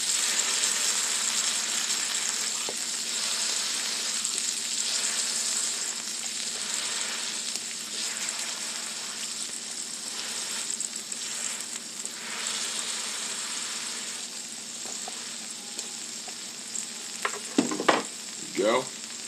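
A smash tortilla burger fries on a hot griddle with a steady, fairly quiet sizzle, and a few sharp scraping clatters from a spatula near the end.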